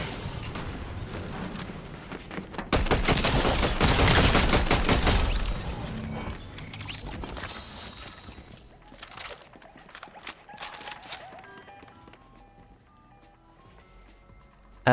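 Rapid volleys of video game gunfire roar loudly, densest in the middle seconds, then thin into scattered shots and mechanical clatter as the barrage fades.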